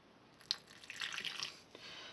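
Small splashes and trickles of water hit churro dough in a bowl, a quiet patter of drips and a short pour, close and faint.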